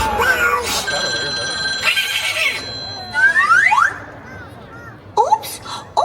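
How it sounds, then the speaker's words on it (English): At a Mickey's Very Merry Christmas Party show, Christmas bells ring in bright bursts between playful, sliding cartoon voices and squeaks, fairly close and loud. "But you stop ringing those Christmas bells!"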